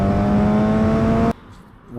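A motorcycle engine roars loud and close at high revs with a steady droning tone, then cuts off abruptly into near quiet before a faint rise at the end, as in a quick gear shift.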